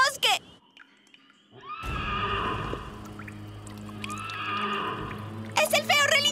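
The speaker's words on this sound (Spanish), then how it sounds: "¡Es el feo relincho del caballo sin cabeza!" A cartoon headless horse in a Spanish-dubbed My Little Pony: Friendship Is Magic episode lets out a shrill whinny in a dark forest, one burst at the start and another near the end, with a bed of spooky background music between them.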